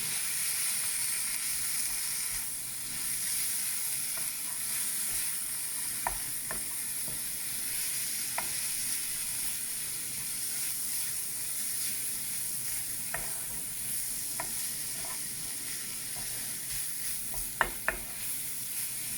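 Potatoes frying with cumin in a pan for a cheese and potato pie, a soft continuous sizzle with occasional light taps and scrapes of stirring, close but quiet.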